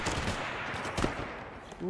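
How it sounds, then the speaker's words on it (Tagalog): Rapid popping bursts of fireworks in the video game Aftermath crackle through a busy mix, with a brief louder burst midway and faint voices in the background. "Fireworks."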